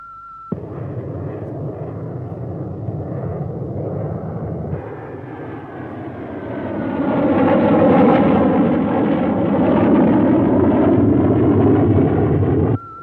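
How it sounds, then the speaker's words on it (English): An aircraft approaches an island and passes overhead with a loud, steady engine roar that swells as it comes nearer and stays strong to the end, with no voices. "Aircraft approaching the island."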